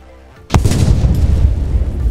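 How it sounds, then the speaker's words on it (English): A single heavy boom from a Roblox tank's cannon, a sharp loud blast followed by a rumbling decay. "The gunner that's inside the tank can also shoot cannons"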